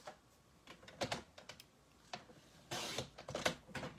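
Cardstock for a handmade card is cut on a paper trimmer, a series of sharp clicks and short scraping slices at an uneven pace, then a longer sliding cut, quiet and close.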